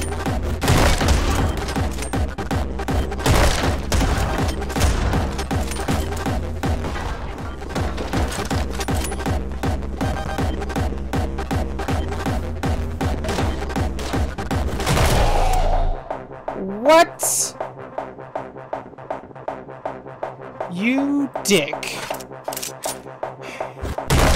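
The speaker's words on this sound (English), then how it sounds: "Scattergun!" Scattergun blasts in the game Anger Foot, a relentless rapid string of loud shots for about fifteen seconds over a pounding beat, then sparser thuds and effects.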